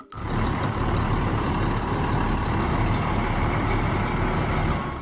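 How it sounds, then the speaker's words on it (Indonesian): A cement mixer truck's engine rumbles loud and steady, a constant low diesel drone close by with no pauses and no talk. "lihat teman-teman ada truk molen teman-teman"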